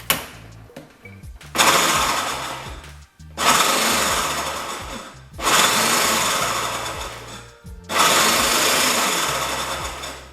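A food processor chops black beans in four loud whirring bursts of a few seconds each, separated by short pauses, with low mechanical thuds heard between the pulses.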